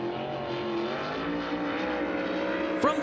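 Race car engine droning steadily as it laps a dirt speedway at I-70 Speedway during qualifying, heard from a distance as a continuous tonal whine with slight pitch shifts and a brief sharp noise near the end.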